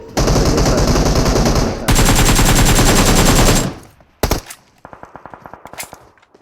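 Automatic gunfire from the mobile battle royale game PUBG Mobile sounds in loud continuous bursts, then stops and gives way to a quieter series of evenly spaced single shots.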